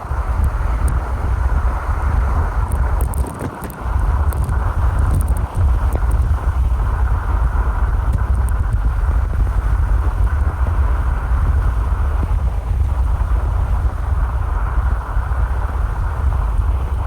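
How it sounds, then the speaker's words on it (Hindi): Strong, steady wind roars close and loud from Hurricane Milton near Tampa as rain begins, a continuous broadband rush with brief gusty dips and no voices. "शदीद हवा, लेकिन अभी तक तो हरिकेन दूर है"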